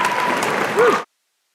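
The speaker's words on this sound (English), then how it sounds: "one more round of applause for our history" At a high school awards ceremony, the audience gives a brief round of applause for the history department that cuts off abruptly after about a second.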